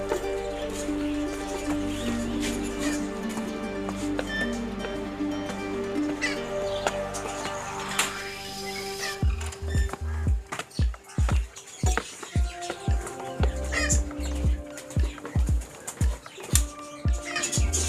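Birds such as crows and pigeons call amid a busy outdoor setting, with a dense layer of chatter and tones giving way to a rhythmic series of low thumping coos and caws.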